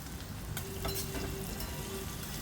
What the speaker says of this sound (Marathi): कांदा सुद्धा आपल्याला शॅलो फ्राय केल्यासारखा नॉर्मल फ्राय करायचा आहे